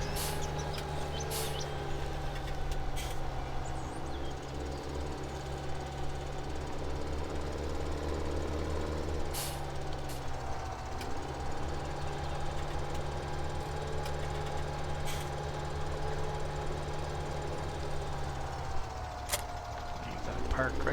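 A tractor engine idles steadily in Farming Simulator on Coldborough Park Farm, a continuous low drone running throughout with brief sharp clanks and faint bird-like chirps over it.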